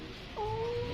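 A drowsy pet cat gives a single drawn-out meow, steady in pitch, close by against a constant background hum.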